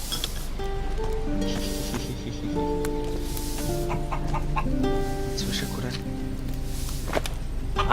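Chickens cluck repeatedly in the video game Risen, steady close fowl calls over a layered game soundtrack, with someone speaking Polish over them.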